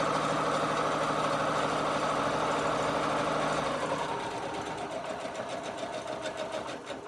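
A Butterick EB6100 sewing machine runs long tacking stitches on a garden cushion with pockets, a loud, close, steady motor whirr with rapid needle chatter that slows and softens near the end into slower, separate thumps.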